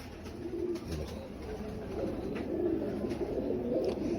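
A Lal Pari pigeon coos softly in low, rolling phrases, repeated several times over faint background noise, with no talking.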